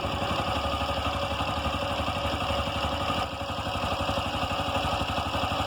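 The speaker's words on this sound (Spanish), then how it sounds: "Este es el sonido del motor, por favor escúchenlo bien." A Bajaj Qute engine idles at close range, producing a steady, even rhythmic putter with a buzzy mechanical drone, unchanging throughout with no voices.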